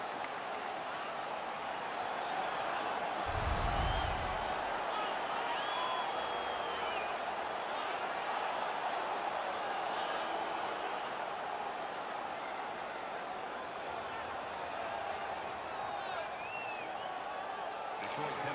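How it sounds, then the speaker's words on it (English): A crowd cheers at an NHL 17 ice hockey game between Detroit and Vancouver after a fight. It makes a steady, distant roar that stays fairly even, with a brief low thump partway through. "The crowd is ecstatic."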